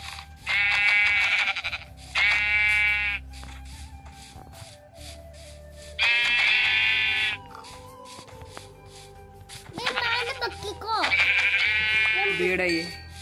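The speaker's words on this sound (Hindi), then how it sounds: "भेड़ है ये," Sheep in a survival video game bleat repeatedly in loud, wavering calls spread across the stretch, with shorter bursts in between, over a steady low background hum; someone talks now and then.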